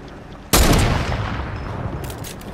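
One loud sniper rifle shot cracks out in a Fortnite match, its sharp report followed by a long fading echo and a few smaller clicks, with no voices.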